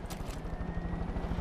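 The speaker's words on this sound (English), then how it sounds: "It's not a plane, it's a helicopter." Helicopter rotor noise heard from inside the cabin, a steady low rhythmic chop with constant loud droning throughout.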